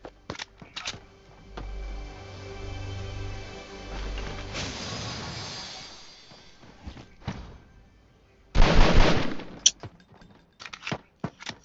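Gunfire in the mobile battle royale game Fortnite Mobile, with a few sharp cracks and a burst of rapid shots around the middle, scattered thuds and clicks between them, and no talking.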